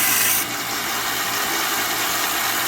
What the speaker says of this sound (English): I'm sanding and then feeling it to see how hot it's getting